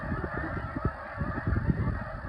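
A flock of geese honks in a busy, overlapping chorus, moderately distant, with no voices.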